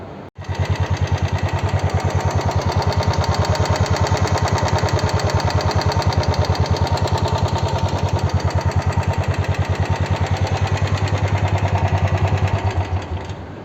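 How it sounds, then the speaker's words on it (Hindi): A loud, steady mechanical clatter runs nonstop, a rapid rhythmic knocking from an idling Royal Enfield Classic 350 engine with an abnormal uneven tapping beat, close and unbroken. "कुछ ऐसी सी आवाज़ आ रही है इंजन में से"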